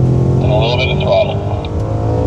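Audi S5 engine pulling under light throttle through a turn at Sonoma Raceway, a steady loud in-car drone with a modest rise in revs, heard alongside a voice.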